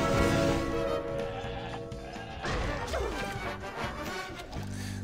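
A goat bleats in the Plants vs. Zombies Heroes video game, a wavering cry heard early amid game music and clattering effects, with someone talking over the busy mix.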